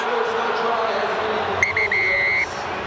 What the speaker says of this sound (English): So the whistle blows and the game is over.